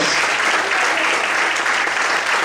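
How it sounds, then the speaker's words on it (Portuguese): Congregation in a church breaking into loud, sustained applause, a dense continuous wash of clapping with no voices standing out. "Merece um aplauso bem forte?"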